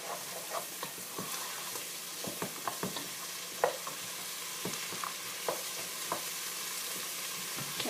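Vegetables with onion frying in a pan for soup, a quiet continuous sizzle broken by intermittent scraping and clicking stirring strokes, no voices.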